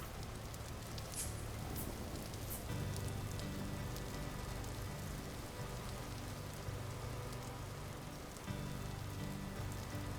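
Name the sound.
rain falling in the video game Vintage Story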